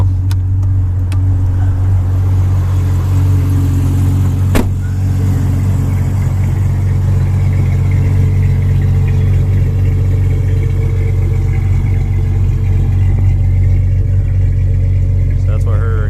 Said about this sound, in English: that's what her exhaust sounds like